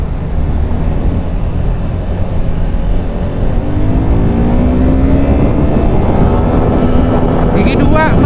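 A single-cylinder Suzuki Gixxer SF 250 motorcycle pulls hard in second gear, its engine note climbing steadily under heavy, constant wind rush as the bike speeds up.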